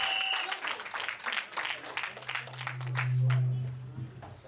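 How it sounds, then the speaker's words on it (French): An audience applauds continuously with a steady crowd texture, and the clapping swells slightly near the end. "Acclamons, acclamons, acclamons encore une fois."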